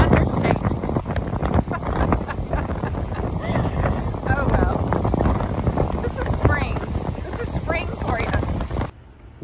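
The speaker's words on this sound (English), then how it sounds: "the wind is blowing about 100 miles an hour" Powerful wind, blowing around 100 miles an hour, roars and buffets the microphone continuously, a loud rough blast that cuts off abruptly at the end.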